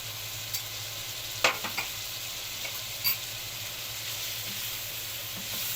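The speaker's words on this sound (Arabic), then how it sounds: "قلبي كله كده" Meat and spices stirred in a pot for an Egyptian one-pot macaroni dish, sizzling softly and steadily, with a few sharp spoon scrapes and clinks against the pot.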